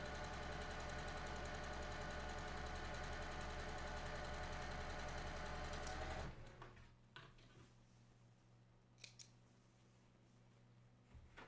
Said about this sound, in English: I'm going to sew the next one on there.